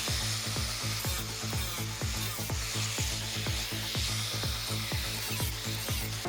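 Welding metal on an FC Holden car under restoration: a steady run of evenly spaced crackling, sputtering bursts, close and fairly quiet, with no talking.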